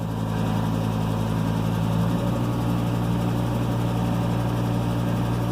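A Ford F450 pickup's V10 engine runs steadily under brake torque, a loud continuous low rumble with smooth, even tone throughout and no talk.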